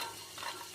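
Vegetables fry softly in a pan, a faint, steady sizzle with a light stirring scrape in a brief moment, no voices.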